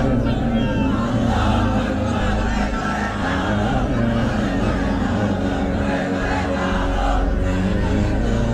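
Large crowd at an Islamic religious gathering chanting slogans together, a dense, loud, continuous roar of voices with no breaks.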